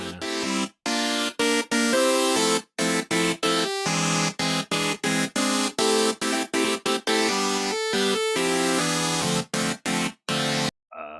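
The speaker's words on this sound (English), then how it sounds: "I took these chords that are the same that are from this loop, which by itself sounds like this." Disco-jazzy chord loop played back alone, full and loud, with punchy rhythmic chord stabs separated by brief clipped gaps, steady and repetitive throughout.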